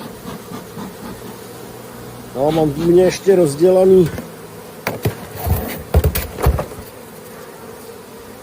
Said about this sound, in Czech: No, krásný včely.